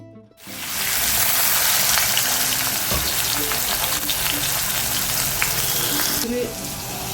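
Potatoes frying in a hot pan, a steady close sizzle with stirring clatter throughout, one sharp knock near the middle and a slight drop in intensity at the end.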